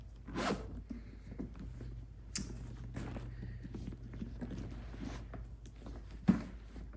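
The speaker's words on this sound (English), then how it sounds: "Let's zip her on up." A Dooney and Bourke handbag is zipped shut, with several quick zipper rasps among soft handling rustles and light taps, close and fairly quiet.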